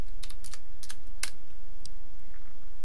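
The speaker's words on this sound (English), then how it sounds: "So to restart it, we're just going to type restart." Keystrokes on a computer keyboard entering a restart command on a CentOS system, a handful of quick, crisp clicks in a short irregular burst, fairly close and with no talking.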